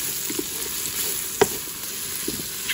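Minced garlic, about three large cloves, fries in a Ninja Foodi while chicken marsala is being made, giving a soft, steady sizzle with a few faint stirring clicks and no talking.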